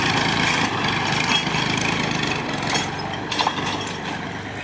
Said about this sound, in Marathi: आता मनू चालवत आहे ट्रॅक्टर